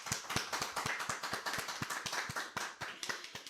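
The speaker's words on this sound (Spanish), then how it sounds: "ella es Lorena Escobar, a quien recibimos con un aplauso" A talk-show studio audience claps to welcome a guest, a modest, fairly quiet patter of hands with distinct individual claps in an uneven rhythm, few people, no voices.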